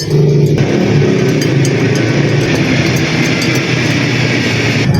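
Roadside traffic rumbles past continuously, a loud engine drone of passing motorcycles and vehicles with a steady hum and occasional clicks, heard without talking.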